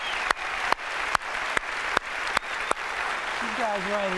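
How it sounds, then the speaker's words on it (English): Steady crowd applause at Apple's WWDC 2008 keynote fills the clip, broken by a few sharp, loud claps or thumps at regular intervals, with a voice coming in near the end. "Let's give them a round of applause."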